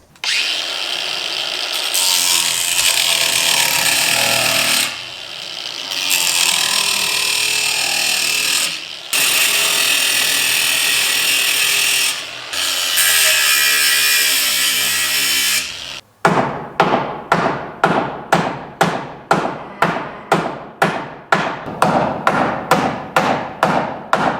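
A power saw cuts through barn boards in long loud bursts with short pauses, then a steady run of sharp hammer blows lands in quick rhythm.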